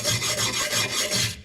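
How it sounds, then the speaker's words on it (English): A small brush scrubs rust and peeling chrome off a lowered Sierra stepside truck bumper, giving a close, steady rasping scrub in repeated strokes about five per second, alone, stopping abruptly at the end. "I'm just going to use this little brush"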